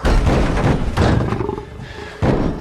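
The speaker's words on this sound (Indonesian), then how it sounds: "tiba-tiba mereka dihampiri oleh singa gila tersebut" A lion from the film Beast lets out deep, loud roars in close-up, two heavy bursts with a growling tail between them and a third starting at the end, with no talk.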